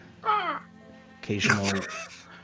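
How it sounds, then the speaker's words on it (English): Crows caw in two harsh bursts, one brief and one longer and louder, set against a dull outdoor backdrop during heavy rain and mud in a tabletop roleplaying game. "punctuated by just the heavy rain and mud around and the sounds of crows"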